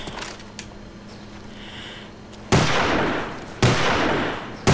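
Gunfire from the video game Call of Duty Black Ops: quiet game ambience gives way to two loud, sustained bursts of rapid automatic fire, followed by the start of a third.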